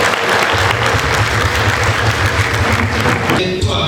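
A congregation at a priestly ordination at the Ruhengeri Cathedral parish bursts into loud, dense applause from a large crowd. It continues unbroken with a low droning undertone beneath and eases slightly at the end.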